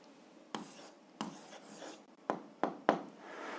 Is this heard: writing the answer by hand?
yes